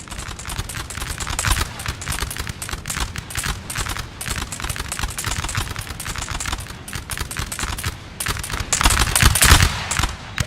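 Musket volleys crackle across a Napoleonic Total War battlefield, dense rapid popping shots overlapping into a continuous fusillade, louder bursts swelling near the end.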